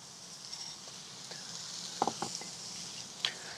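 Food dressed with olive oil is stirred in a pan, a faint background sizzle broken by a few soft clinks and scrapes of the utensil against the cookware.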